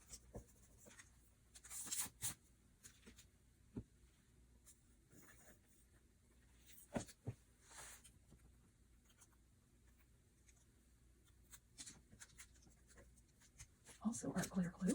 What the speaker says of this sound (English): spreading it out a little with my silicone spreader so it doesn't hopefully leave lines